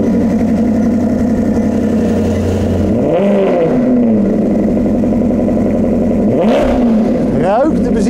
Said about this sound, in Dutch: Een ongeblazen 8-cilinder, die hebben ze opgeklopt naar 450 pk.